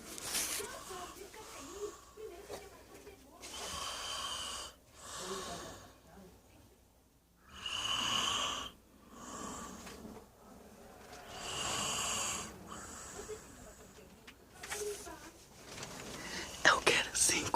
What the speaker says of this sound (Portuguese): Ela tá roncando igual um porco.